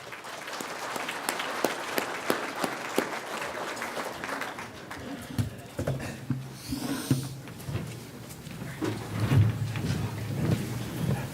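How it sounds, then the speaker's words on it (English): Audience applause greets students at a morning youth panel on reconciliation, a dense burst of clapping that fills the first half, then thins into scattered claps and low room rumble. "I was going to start with you applauding these students"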